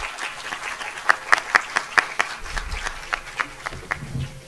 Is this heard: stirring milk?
no